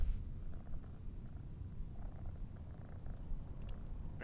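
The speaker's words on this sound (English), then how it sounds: "I can hear a cat." A cat purrs steadily and close by in a quiet room while a power-washing game is being played, a low continuous rumbling that carries on through the whole stretch with no talking over it.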